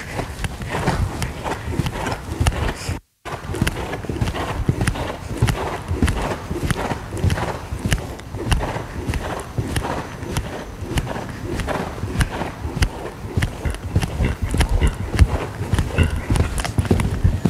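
A horse canters over ground poles during show-jumping training, its hooves drumming in a steady three-beat rhythm on the ground, close and continuous, with creaks of tack and faint ambient noise throughout.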